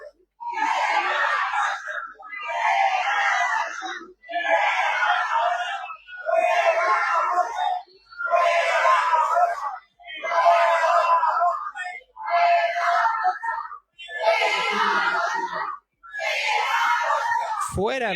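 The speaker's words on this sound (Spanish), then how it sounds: "Fuera Rocha, así como lo están escuchando ustedes" A crowd inside a state congress in Mexico shouts protest chants against the governor Rocha Moya, loud and close, in about nine repeated bursts separated by short pauses.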